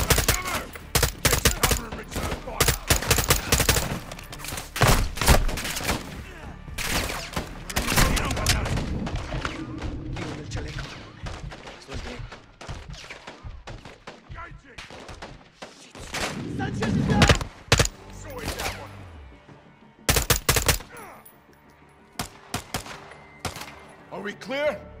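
Gunfire from the video game Modern Warfare 2 during a campaign firefight: dense bursts of rifle and machine-gun shots with booms, loud and continuous, with shouted voices mixed in.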